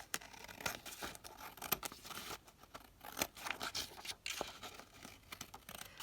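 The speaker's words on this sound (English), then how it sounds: "I'm just going to now trim that down" Scissors trimming glued craft material during a kit project, a run of close, crisp snipping cuts with short pauses between them, quiet and without talk.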